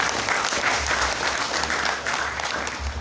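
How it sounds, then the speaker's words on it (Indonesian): An audience applauds at an Islamic community gathering, a grand opening event, with dense, steady clapping that stays loud and even for the whole stretch and has no talk over it. "Aplaus dulu untuk kita semuanya."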